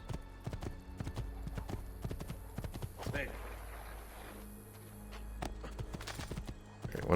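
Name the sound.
horse hooves clip-clop in video game Assassin's Creed 2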